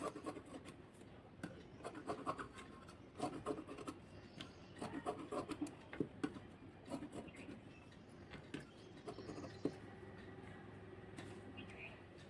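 Scissors snip through blouse lining cloth during tailoring, a series of faint, close, irregular cutting and rubbing sounds with short pauses, quiet throughout.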